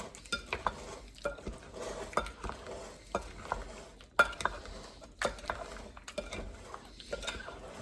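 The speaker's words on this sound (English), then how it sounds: "So let's give this a stir, and you'll see how this thickens up even more as we stir this along here." Spoon scrapes and stirs through thick strawberry rhubarb pie filling with tapioca in a pot, a quiet irregular series of wet scraping strokes and light clinks against the pan, close and alone.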